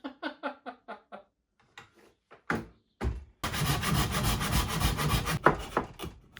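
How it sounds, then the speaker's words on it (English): Handsaw cutting a slot through a hardwood rail for a front door: a handful of short, separate rasping strokes and knocks, then a loud, sustained stretch of fast sawing close by. "So I finished the rough cut with a handsaw"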